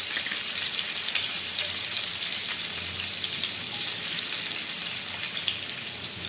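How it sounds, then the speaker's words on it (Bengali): Potatoes frying in oil with turmeric and salt, an even, dense hiss of sizzling like light rain, constant and close with no voices. "এবার আলুগুলোকে আমি ভালো করে ভেজে নেব হলুদ আর লবণ দিয়ে।"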